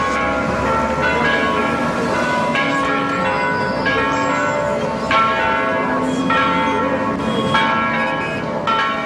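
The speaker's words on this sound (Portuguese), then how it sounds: "O sino você ouve" A church bell rings steadily amid a dense, continuous wash of city noise from buildings, cars and buses, with rich overlapping tones sustained throughout.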